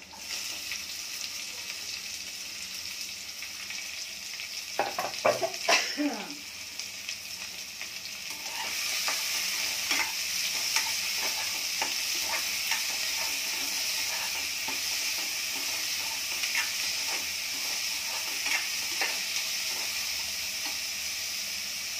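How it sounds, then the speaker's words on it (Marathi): Onion frying in a pan with already golden garlic for a Maharashtrian chana dal pithla, a steady sizzle with a burst of clatter and stirring early on, then louder, even frying crackle with scattered pops throughout. "लसूण सोनेरी झालेला आहे. तर आता कांदा टाकूया."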